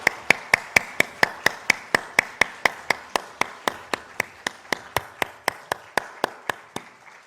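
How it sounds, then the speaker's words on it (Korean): A single person or a small group at a Sunday worship service in a church claps in a steady, even rhythm of about twenty sharp, close claps, with no talk over them. "하나님께 영광의 박수 올려드리겠습니다"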